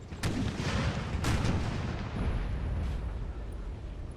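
Heavy artillery fire in Napoleon Total War, with two loud, booming cannon blasts close together early on that roll into a dense, rumbling battlefield din that continues steadily.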